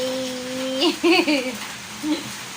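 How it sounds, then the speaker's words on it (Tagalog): Heavy rain makes a steady, dense hiss that continues under a person's voice speaking briefly over it. "ang lakas ng ulan"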